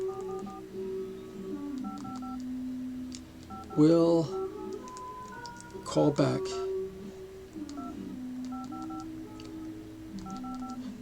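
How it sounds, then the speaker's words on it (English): Flip phone keypad tones sound as short electronic beeps scattered across the clip while texting, close and moderately loud, with a person talking briefly over them in two spots. "I'm texting my friend, making a video."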